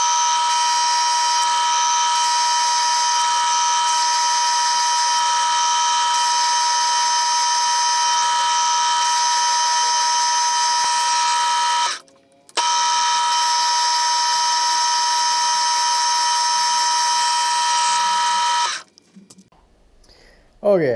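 A milling machine cutting an angled recess in a Polaris hub adapter, a loud, steady high-pitched whine that runs continuously, drops out briefly near the middle, resumes, then stops near the end.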